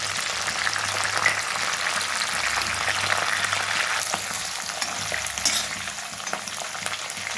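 Green chillies and curry leaves fry in a pan, giving a dense, crackling sizzle that runs evenly throughout at close range, with no voices.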